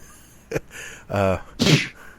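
A single sneeze, preceded by a quick intake of breath and a short vocal sound, bursts out close and fairly loud during a wrestling podcast conversation.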